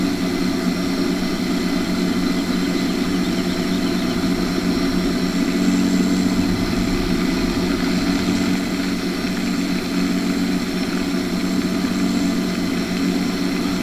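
A tractor engine runs at a steady, continuous drone with no change in pace, loud and close, and no voices over it.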